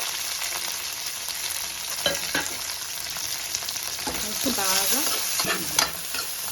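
Small onions fry in a pan with mint and curry leaves for a Tamil Nadu-style crab gravy, a steady close sizzle broken by a few scraping stirs, with no talking.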